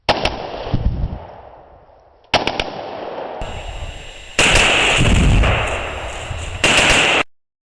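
A Marlin Model 60 rifle fitted with a BMF Activator fires outdoors in rapid bursts: sharp cracking shots in quick strings with echoing tails, loud and close, ending in a dense final volley.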